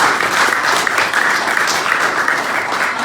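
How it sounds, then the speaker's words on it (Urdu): Enthusiastic applause from a congregation in a United Reformed church, with loud, dense, continuous clapping filling the room throughout. "ہم یہ تالیاں اس لیے بجاتے ہیں تاکہ ہم خداوند کے نام کو جلال دے رہے ہیں"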